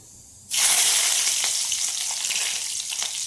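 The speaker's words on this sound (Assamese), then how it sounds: "তেলখিনি গৰম হোৱাত মই ইয়াতে নহৰু দিলো" Garlic dropped into hot oil, with a little sugar already in the pan, bursts into a loud, steady sizzle that starts abruptly and keeps crackling close up to the end.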